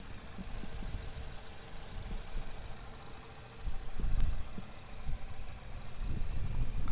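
A 2011 Nissan Versa engine idles with a steady low rumble and a faint, light ticking running through it, occasionally swelling slightly louder.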